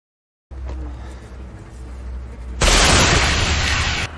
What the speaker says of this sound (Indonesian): langsung menembakkan pistol suar miliknya untuk memberikan lokasi kepada mereka